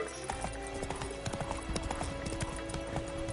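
Hooves of Roach, a horse in the video game Witcher 3, clip-clop in a steady walking rhythm over a continuous ambient hum, close and clear, with faint snorting.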